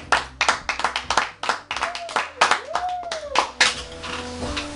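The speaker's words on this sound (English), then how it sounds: "Give a man a clap." Rhythmic hand clapping from a small crowd, sharp claps in quick succession, with a voice talking and a tonal whoop over it.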